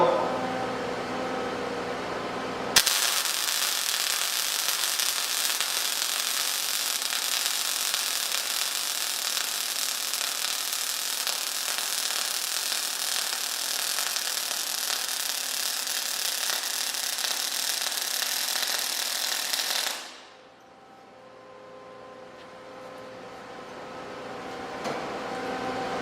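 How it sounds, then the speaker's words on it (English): MIG welding runs a bead with a steady, close, intense crackling buzz that starts abruptly and holds for about seventeen seconds before cutting off into quiet. "I'm going to go ahead and run my weld."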